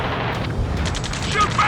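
Gunfire in Ace Combat 7 during a rescue mission, a rapid rattle of shots layered over a low rumbling battle din, loud and dense for under two seconds, with a whistling tone near the end.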